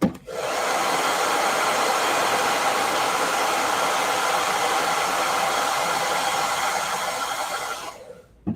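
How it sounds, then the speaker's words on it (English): A blow dryer, used to dry paint during a painting session, runs loudly and steadily with a broad whooshing roar for several seconds, then cuts off abruptly. "I'm going to hit this with a blow dryer."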